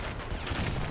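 Artillery booms in a Between Empires video game set in France, a dense, loud burst of gunfire-like blasts that fills the whole moment without any pause.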